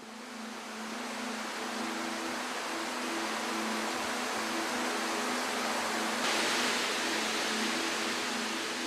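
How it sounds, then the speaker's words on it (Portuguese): Shiraito waterfall on the slopes of Mount Fuji, a constant broad rushing roar of falling water, steady and fairly soft throughout with a faint low tonal hum beneath. "Nosso pesquisador está nas cataratas Shirai Tonotaki, um manancial bem conhecido nas encostas no Monte Fuji."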